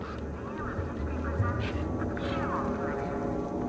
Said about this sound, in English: Those birds weren't going to let me anywhere near the back of the truck.